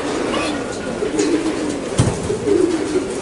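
Racing pigeons cooing inside a loft, soft repeated throaty coos rising and falling over a low background hum, fairly close and moderately loud.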